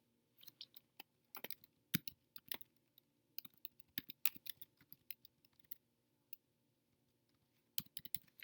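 Scattered keyboard keystrokes tapping at an uneven pace, close and fairly quiet, with short gaps between bursts of typing.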